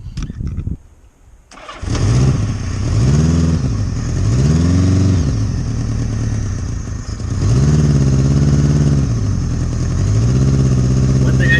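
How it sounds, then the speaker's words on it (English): An engine starts after a brief quiet moment and then idles steadily, with a few rising and falling revs; it is loud and close, with no talking. "the engine appears to be running pretty darn smoothly"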